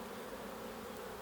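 Honey bees crowd the frames of an occupied hive, their buzzing a thick, even hum up close that holds constant throughout without any talking.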